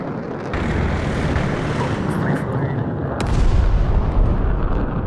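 A missile launches from an F-15C in a flight simulator game, a loud, dense rushing roar over constant jet noise that swells near the end, with faint voices in the mix.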